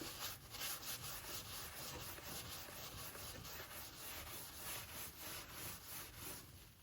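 Stove top grates are wiped and scrubbed clean, a faint, continuous rhythmic rubbing and scraping with quick repeated strokes close by.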